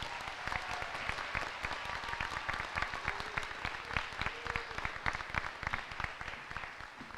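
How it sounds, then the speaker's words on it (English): A school band and choir spring concert audience gives the pianist a round of applause, many hands clapping in a sustained, even patter from a moderate distance. "Would you please give Mr. Philgreen a round of applause?"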